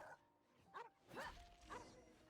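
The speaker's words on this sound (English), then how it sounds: "This is not a cat. It's a dog." A dog in Genshin Impact gives a few short barks and yips, three or four spaced calls at moderate volume over a faint background.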